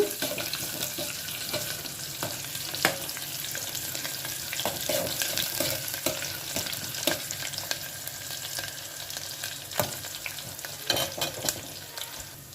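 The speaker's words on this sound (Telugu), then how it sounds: "ఉల్లిపాయలు కొంచెం వేగనిద్దాము" Chopped onions sizzle in hot oil with mustard seeds and cumin for a tempering, a steady soft frying hiss with occasional pops and stirring clicks, close and fairly quiet.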